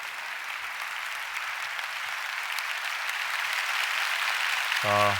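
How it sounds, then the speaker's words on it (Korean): Congregation applauding at a Daniel prayer meeting as the guest pastor comes out, a steady wash of clapping throughout, with a brief musical tone entering at the very end. "강사 목사님 나오실 때 우리 박수로 환영하며 맞이하겠습니다"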